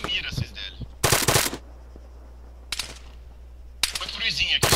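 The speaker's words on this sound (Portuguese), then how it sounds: "eu tô atirando sem mira" Bursts of gunfire from the military shooter ArmA 3, with two loud broadband volleys and a fainter third burst spaced across a quiet stretch, heard alongside brief speech.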